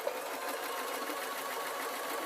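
A domestic sewing machine stitches a blouse in a steady, fast mechanical whir, continuous and fairly quiet with no talking.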